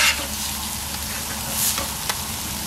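Whiting and salmon fillets frying in oil on a hot Blackstone griddle, a close, continuous hiss and crackle of sizzling with a few brief scrapes and ticks, no voices.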